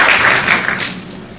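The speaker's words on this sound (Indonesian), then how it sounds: "Tepuk tangan buat Tuhan." A church congregation applauding for God during a sermon, a short loud burst of crowd clapping that fades within about a second.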